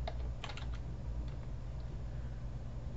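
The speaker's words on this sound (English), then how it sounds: "we're going to type in a tweet" Steady, rapid keystrokes on a computer keyboard as a tweet is typed, with close, even clicking that runs without pause and no talk.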